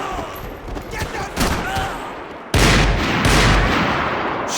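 Gunfire in the video game Max Payne 3, a burst of shots growing into a loud, dense fusillade in the second half, with shouted voices over the combat.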